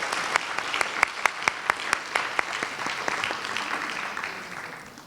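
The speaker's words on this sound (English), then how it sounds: "A big round of applause to Krishna's mother." Applause at a Bharatanatyam Arangetram recital, with crisp nearby handclaps ringing out in a regular beat over the audience's broader clapping, which gradually softens and fades.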